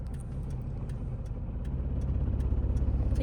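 A learner's car engine hums low and steady as the clutch is slowly released for a U-turn, its rumble gradually growing louder and rougher toward the end, with no talk over it.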